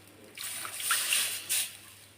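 Gram flour mixed with water is poured into a frying pan of fried ingredients, a brief soft liquid rush and sizzle rising over about a second, then easing off, with no voices.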